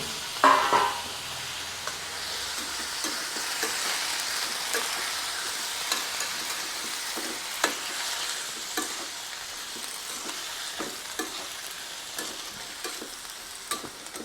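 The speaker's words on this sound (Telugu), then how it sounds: "ఇందులోనే టమాటా ముక్కలు వేయిస్తానండి" Tomato pieces fry in a pan on the stove with a soft, even sizzle and occasional light stirring clicks, moderately quiet and with no voices.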